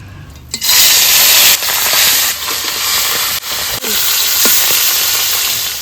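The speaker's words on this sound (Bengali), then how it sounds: "এবারে খয়রালির মাছগুলো ভেজে নেব" Small khoyrali fish are frying in hot oil in a kadai, giving a loud, close, steady sizzle and hiss that flares up as the fish go in and carries on with slight dips and spatters.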